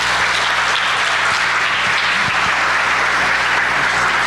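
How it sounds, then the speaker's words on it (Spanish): Sustained audience applause at a university conference on Industry 4.0 welcomes the guest speaker, a dense steady clapping from a large crowd lasting several seconds with no talk over it. "Démosle un fuerte aplauso."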